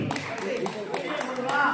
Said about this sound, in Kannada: ಬರ್ಲಿ ಚಪ್ಪಾಳೆ, ಬರ್ಲಿ ಬರ್ಲಿ ಬರ್ಲಿ